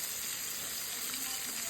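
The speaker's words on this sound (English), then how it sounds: "the more pork chops you put into your frying pan," Pork chops sizzle in a hot frying pan in a home kitchen, a steady, soft crackling hiss that carries on evenly throughout without pause.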